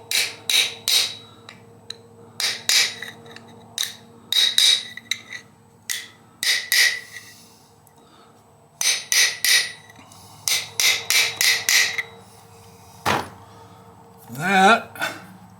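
Metal seal being tapped home into the crankcase of a Yamaha AT3 engine, about two dozen sharp hammer strikes in uneven bursts with pauses between, ending in a brief scraping squeal.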